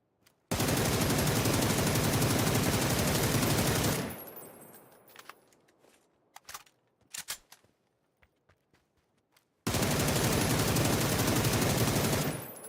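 Dense, sustained automatic gunfire in a video game, roaring loud and continuous for about four seconds, then a stretch of scattered clicks and thuds, then another long loud burst of firing.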